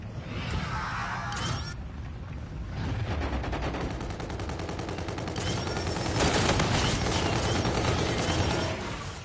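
Gunfire in a Call of Duty match with a G-Rail weapon, bursts of rapid automatic shots that come and go in waves, loud and close with a rattling mechanical edge, with no talk over it.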